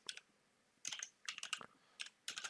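Someone types quickly on a computer keyboard, giving short, soft clusters of key clicks separated by brief pauses, close and quiet with no talking.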